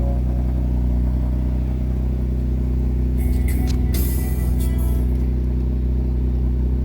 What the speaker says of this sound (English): So let's give her a start up.